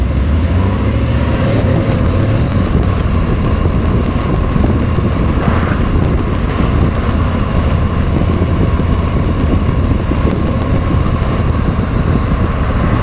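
A Harley-Davidson Tri Glide M8 fitted with a Rekluse automatic clutch pulls away under throttle, its engine rumbling loud and constant beneath steady wind roar for the whole stretch.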